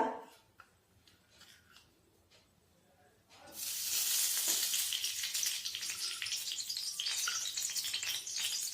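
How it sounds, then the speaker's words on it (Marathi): Ghee heats in a kadhai while making sesame-jaggery chikki; after a few quiet seconds a loud, steady, hissing sizzle erupts and continues without pause. "आता आपण कढईमध्ये तूप टाकूया"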